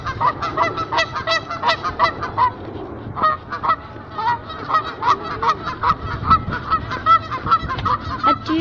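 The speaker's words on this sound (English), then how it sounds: "Let the geese come out." Geese at a zoo honk repeatedly in a loud, busy chorus of overlapping nasal calls that carries on without a break throughout.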